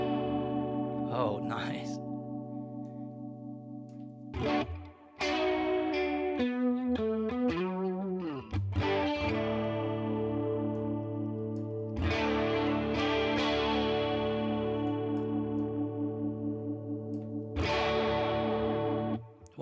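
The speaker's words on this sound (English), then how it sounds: "Kind of a swimmy chorus." Electric guitar through a slow, swimmy chorus on a Neural DSP Tone King Imperial amp model, playing ringing chords and a short melodic run with gentle wavering. Someone briefly speaks over it.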